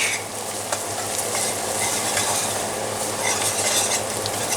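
A whisk scrapes continuously through flour roux in a Stargazer cast iron skillet, a steady close swishing sizzle with faint metallic ticks and no talking.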